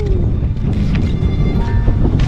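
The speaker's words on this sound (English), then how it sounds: "A bit windy, but not too bad." Wind buffets a microphone on a lesser summit of a live volcano in northern Japan during a backcountry ski outing, a steady, loud, rumbling roar with no break and no talking.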